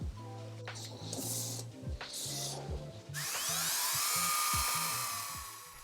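Power drill boring holes into cat tree poles, a high whining spin that starts and stops in several short bursts, then settles into one long, steady, loud run.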